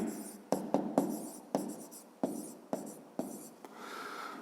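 Pen strokes scratch across paper while an arithmetic calculation for a fifth-grade math exercise is written out, a run of short scribbling bursts separated by brief pauses, close and fairly quiet, with no voices.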